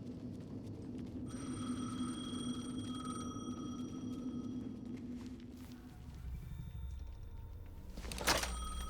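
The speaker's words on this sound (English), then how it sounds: "The phone again." A telephone rings in the video game Alan Wake 2, a faint electronic trill over a low ambient hum that fades out partway through, followed by a short clatter near the end.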